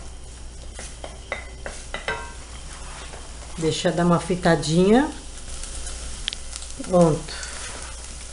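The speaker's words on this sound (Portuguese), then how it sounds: "E tá fritando a cebolinha" Chopped onion sizzles in hot oil with occasional stirring clatter, while a person speaks briefly over the frying.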